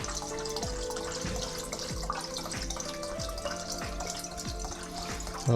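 Spirit is poured into room-temperature water, about 21 degrees, for an amanita muscaria tincture, giving a steady close trickle with regular small glugs and splashes.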